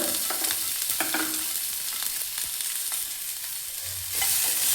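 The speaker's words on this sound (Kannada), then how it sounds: "ಈಗ ಇದೇ ಪ್ಯಾನ್ಗೆ ಮತ್ತೆ ಸ್ವಲ್ಪ ಎಣ್ಣೆನ ಸೇರಿಸಿ ಈರುಳ್ಳಿನ ಫ್ರೈ ಮಾಡ್ಕೊಳ್ಳೋಣ." Onions frying in oil in a pan for radish sambar, a steady close hiss and crackle with occasional stirring scrapes, no talk.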